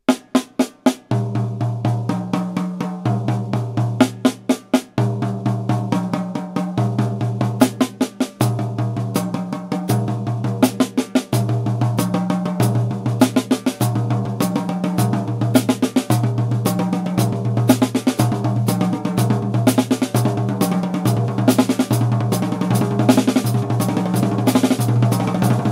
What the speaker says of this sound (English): I choose the floor tom, sounds like this.